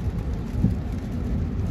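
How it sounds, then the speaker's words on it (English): Steady rain falls as a dense, even hiss with a low rumble underneath, loud and continuous with no voices. "It's raining now, so I'm about to keep on moving."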